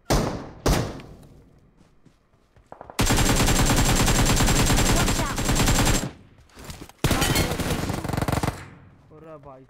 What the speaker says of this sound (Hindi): अरे भाई साहब गोली चला दी मेरे पर किसी ने